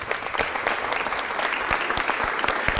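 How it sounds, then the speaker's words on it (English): Indoor crowd at a city Board of Aldermen meeting claps steadily, a dense round of applause with sharp individual claps running throughout at moderate level. "Let's give them one more big round of applause."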